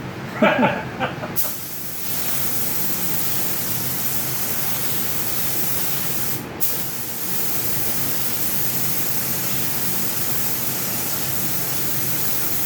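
Steady broadband hiss of a paint spray gun running continuously, applying paint to a 1942 Farmall H tractor during restoration, with a brief clatter at the start and a short break midway.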